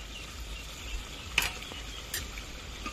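Chicken pieces with sour curd and chili flakes being stir-fried in a pan for a village-style country chicken curry, a steady low sizzle with a couple of brief stirring scrapes near the mic.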